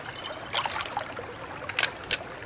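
Running stream water in the survival game Sons of the Forest, a soft continuous trickle with a few brighter splashy bursts, heard alone at low level.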